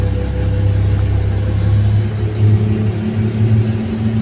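A Komatsu HD785-7 haul truck's diesel engine rumbles loudly and steadily from close up, deep drone holding and swelling slightly as it gathers power, no voices.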